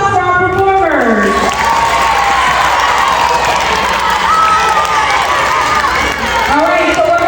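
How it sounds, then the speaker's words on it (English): Children at a school assembly cheer and applaud for dancers who performed Cambodian cultural dances, with loud sustained crowd shouting and clapping close by and some voices mixed in. "Let's give one more round of applause for our performers."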